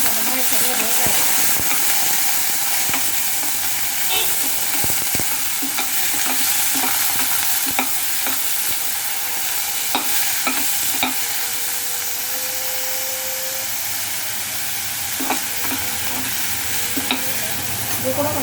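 Bottle gourd sautés in groundnut oil with a loud, close sizzle, punctuated by repeated clattering spatula strokes against the pan throughout.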